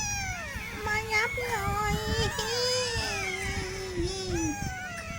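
Newborn pug puppies cry in thin, high, wavering squeals that overlap and rise and fall in pitch, close up, while someone talks softly over them.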